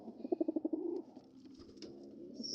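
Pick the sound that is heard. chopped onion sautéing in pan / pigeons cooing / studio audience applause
pigeons cooing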